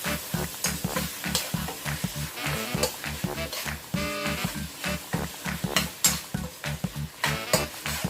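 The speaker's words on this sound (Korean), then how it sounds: "후추 하나 더 넣고 이거 후리크 다 넣고 싹싹 볶아줘" Jjamppong ramen ingredients stir-fried with pepper in a hot pan, a steady sizzle broken by rhythmic scraping and clanking strokes of a utensil, close and continuous with no voices.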